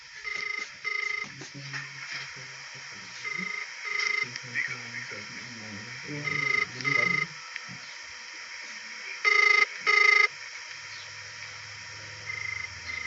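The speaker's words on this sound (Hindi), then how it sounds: "देखिए फोन रिंग जा रहा है, फोन उठा नहीं रहे हैं।" A phone rings out on an outgoing call to a district official, repeated electronic ring bursts at a steady rhythm over a line hiss, with a voice speaking between rings.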